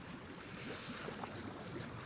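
Hot tub bubbles running aboard a De Antonio D60 boat out on open water, a steady airy hiss and soft wash of churning water, fairly faint and continuous, with wind and gentle sea around it.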